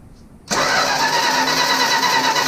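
A 1965 Plymouth Barracuda, sitting three years, cranks over with its distributor cap off: a sudden start of steady, loud, close starter and engine churning that continues unbroken after a quiet moment, with no talking.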